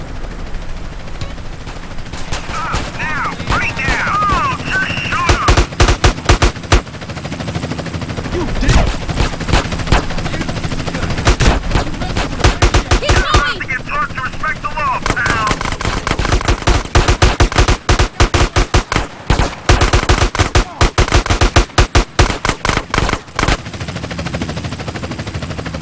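Gunfire in the video game Grand Theft Auto: San Andreas with mods: sustained loud automatic bursts and rapid shot volleys, near and continuous for most of the stretch, with occasional shouted voices.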